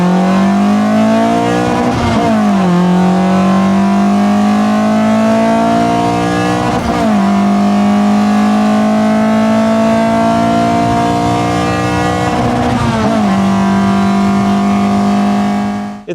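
Opel Corsa B GSI swapped to a C20XE engine with individual throttle bodies, revving hard three times with a loud, close, rising intake howl and sharp drops between pulls.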